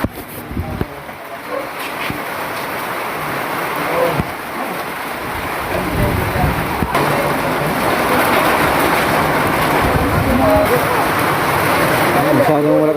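Heavy rain pours down steadily and loudly outdoors in Lopez, Quezon, a dense continuous hiss and patter that builds slightly over the span without pause.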